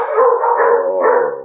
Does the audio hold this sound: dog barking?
yes